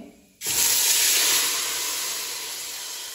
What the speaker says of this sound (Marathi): लगेच आपल्याला पाणी वतायचं आहे त्याच्यामध्ये